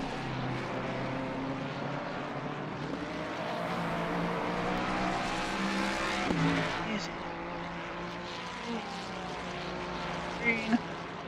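Race cars running laps at Monza in Assetto Corsa Competizione, tyres being warmed up in the opening laps; a steady, dense engine drone fills the track throughout, with a few louder passing bursts near the end.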